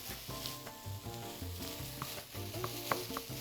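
Calabresa sausage sizzles steadily in a hot frying pan, a continuous crackle with a few sharper pops and faint stirring scrapes near the mic, with no voices.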